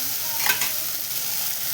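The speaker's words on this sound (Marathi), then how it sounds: "अशी भेंडी तुम्ही शक्यतो तवा मस्त कुरकुरीत बनवायची" Okra fries crisp on a hot griddle, giving a steady close sizzle with a brief stirring scrape near the start and no voices.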